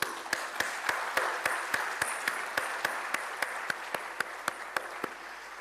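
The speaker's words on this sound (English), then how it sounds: "Clap for yourself." Students in a university auditorium clap for themselves, a steady crowd patter with regular sharp, louder claps cutting through at an even pace.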